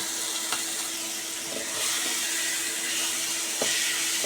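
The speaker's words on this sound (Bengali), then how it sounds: "সেই মশলাটা আমি দিয়ে দেব, দিয়ে এর সাথে মিশিয়ে দেব।" Spice paste is stirred into a restaurant-style egg curry (dim kosha) frying in a pan, giving a steady, close sizzle with faint scraping taps of the spoon and no talking.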